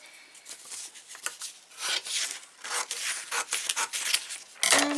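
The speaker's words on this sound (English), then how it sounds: "I'm going to get that stuck down there and cut that in half." Scissors cutting a sheet of paper in half while crafting, a series of close, crisp snipping and rasping strokes in uneven bursts, loudest near the end, with no talking.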